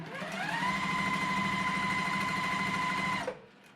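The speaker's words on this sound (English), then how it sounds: "I'm just going to pick up pieces off my board, sew together what I know needs to be sewn together" A sewing machine stitches quilt pieces together at a 1/4 inch seam, giving a fast, even mechanical whir. It holds steady for about three seconds, then stops abruptly. No one speaks.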